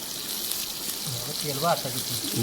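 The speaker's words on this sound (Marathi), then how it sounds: "या साईडला आपला कौळ फ्राय रेडी झालेला आहे" Small fish frying in oil over an outdoor fire, giving off a steady soft sizzle and hiss while a person speaks over it.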